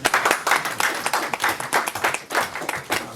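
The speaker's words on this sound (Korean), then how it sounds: "박수 칠까요? 한번 쳐주시겠습니까?" Audience applause at a Korean government budget briefing in Sejong City: dense, steady clapping from a crowd that holds at a lively level for about three seconds, with no voices over it.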